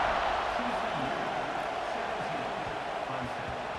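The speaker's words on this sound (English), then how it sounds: "this crowd now ready to get behind them" A stadium crowd in the College Football 26 video game roars as a broad, continuous wash of noise after an extra point, with a commentator talking over it throughout.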